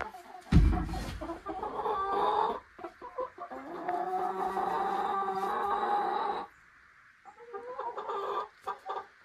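A busy flock of chickens and roosters clucks and squawks close by, with one sharp loud call near the start and steady clucking that drops away briefly before resuming.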